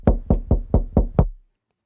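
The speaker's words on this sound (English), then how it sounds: "Did you knock on my door?" Six sharp, evenly spaced knocks on a door ring out in quick succession, close and loud, each a hollow thud that fades fast, followed by silence.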